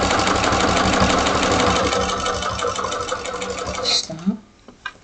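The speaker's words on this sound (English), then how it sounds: "pivot, turn your project around, and then sew 1/4 inch" A sewing machine stitches a quarter-inch seam, its rapid steady mechanical chatter running close and loud before stopping near the end, followed by a few soft handling sounds.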